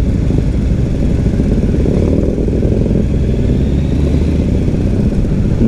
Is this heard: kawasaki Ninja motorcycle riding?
yes